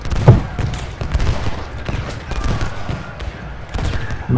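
Rolling musket volley from the Iron Brigade in a Union-versus-Confederate battle game, a rapid ragged crackle of many shots with a sharp opening report, then scattered firing that carries on throughout.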